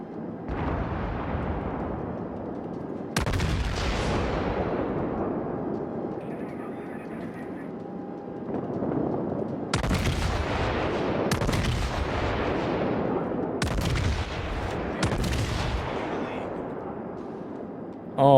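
Warship guns firing in World of Warships, loud booming salvos that repeat at irregular intervals, each with a sharp onset and a long rumbling decay, under steady game background noise.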